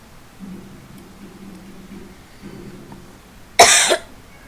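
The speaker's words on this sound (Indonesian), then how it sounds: "sama backsound suara batuk saya" A single person's cough, sharp and close, with faint low murmuring before it in a quiet room.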